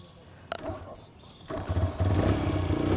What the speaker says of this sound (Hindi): ये लो भाई, स्टार्ट हो गई किक से।